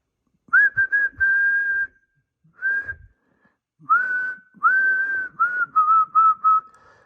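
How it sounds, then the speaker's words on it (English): A person whistles a steady, fairly high tone in a series of short and longer bursts with brief gaps, clear and close, while testing a BC-654a radio power conversion box, with no talking. "when I whistled"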